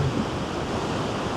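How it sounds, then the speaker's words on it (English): A big wave bursts and splashes near someone fishing on the shore, a loud, sustained hiss of churning water with wind rumble, steady and close. "Big splash."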